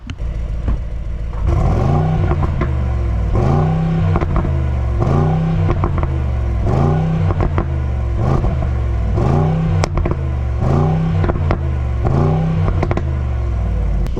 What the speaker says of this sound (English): V8 pops and bangs